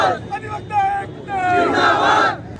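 Striking lawyers blocking a road chant slogans against the police, a group of loud, close, raised voices in rhythmic bursts of shouting.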